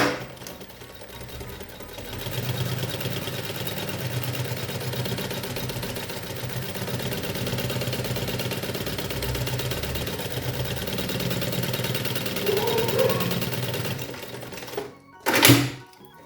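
A sewing machine stitches a small safety seam to attach a pocket onto a fabric pencil case, running steadily and close for about fourteen seconds before stopping, followed by a brief rustle of handling.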